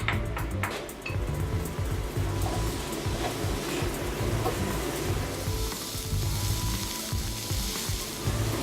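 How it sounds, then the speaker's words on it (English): Onions sizzle and crackle steadily in a hot cast iron skillet, a continuous close frying hiss with occasional light clinks. "you can already hear the onions starting to cook in our skillet"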